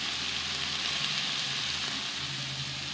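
Potatoes and beans frying in a pan, a steady close sizzle and crackle of oil holding at an even level throughout with no talking.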